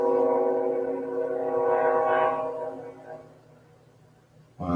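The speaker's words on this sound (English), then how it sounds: "Can you guys hear the train in the background?" A train passes in the background at night, its steady low rumble holding loud through the first seconds, then slowly fading.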